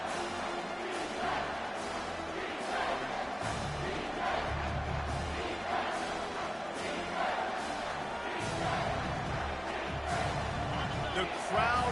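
Stadium crowd roaring in College Football 25 during a big third-down defensive stand, a steady, dense wall of cheering that swells slightly, heard under a play-by-play commentator's voice throughout.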